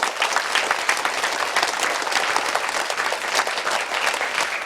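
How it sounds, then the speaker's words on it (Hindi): An audience at a quiz gathering in a Buddhist vihara breaks into loud, sustained applause, dense clapping filling the whole stretch without a break. "जोरदार तालियां इनके लिए।"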